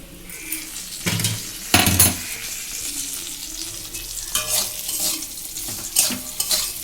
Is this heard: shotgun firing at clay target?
no